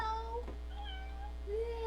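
A cat meows softly a couple of times against a steady low background hum.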